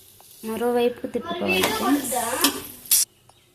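Bread omelette frying in a pan, a steady sizzle with a few scraping stirs and a brief clatter as it is turned, while a person talks over it.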